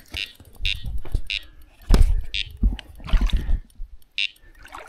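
Carp fishing bite alarm at night by a lake: a series of loud, sharp electronic beeps in quick bursts, mixed with close rustling and thumping movement nearby.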